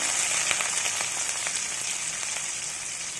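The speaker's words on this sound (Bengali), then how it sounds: "পেঁয়াজগুলো দিয়ে দেব," Sliced onions sizzle in hot oil with black cumin seed tempering, a dense, steady crackling hiss with small pops throughout.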